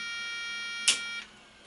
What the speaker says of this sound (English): when I turn on this computer, you just get that, the continuous beep tone